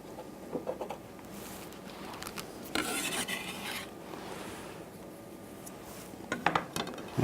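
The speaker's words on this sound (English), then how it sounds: "And this will get stirred in." Chopped spinach being stirred into risotto in a pot: a quiet, close rasping and scraping of the spoon through thick rice, with a few brief clinks and a louder burst of stirring midway, no talking.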